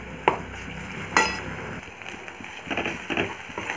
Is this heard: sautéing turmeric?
yes